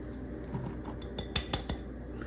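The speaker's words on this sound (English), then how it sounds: "we are just going to mix together all of our dry ingredients" Dry blueberry muffin ingredients are mixed in a bowl, giving soft scraping and a few clinks of a utensil against the bowl, close and fairly quiet, with no voices.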